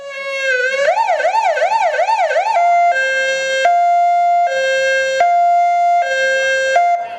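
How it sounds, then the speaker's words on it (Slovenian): A new fire engine donated by the municipality of Lendava to the volunteer fire brigade of Gornji Lakoš sounds its siren: first a rapid warbling wail, then a loud two-tone alternating hi-lo pattern, close and clear. "Tako so zazvenele sirene novega gasilskega avtomobila"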